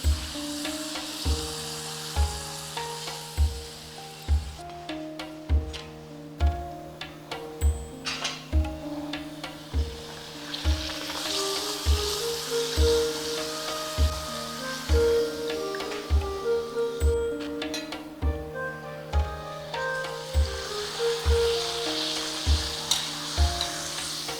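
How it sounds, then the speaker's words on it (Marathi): Homemade urad dal papad fries in hot oil with a continuous crackling sizzle, cut through by regular soft thumps and some clinking of a utensil, and nobody talks. "बघा छान पापड झाले अजून थोडेसे तळूया मस्त"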